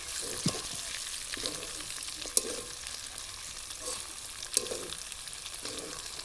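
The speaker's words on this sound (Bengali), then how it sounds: "আলুগুলো দিয়ে আমি ভালো করে নেড়ে চেড়ে মিশিয়ে নিচ্ছি।" Mutton and potatoes frying in a pot for mutton biryani, a soft continuous sizzle with intermittent scraping stirs and a couple of sharp metal clinks of the utensil against the pot, close up.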